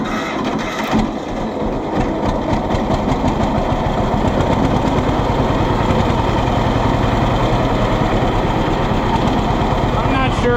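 A 1948 John Deere B tractor engine running after a restart with the carburetor not fully set, a loud close steady chugging idle that continues throughout without talk.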